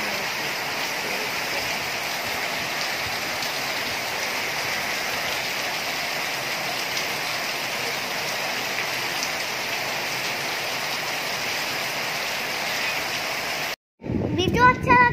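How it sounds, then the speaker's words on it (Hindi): Heavy rain pours down in a dense, even roar of drops hitting surfaces for most of the stretch, then cuts off abruptly near the end, where brief close sounds take over. "हमने ऊपर से बताया कि कैसे बारिश हो रही है"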